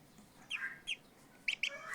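Ducklings on a duck farm give a few sharp, high chirps, some in quick pairs, fairly faint with quiet gaps between.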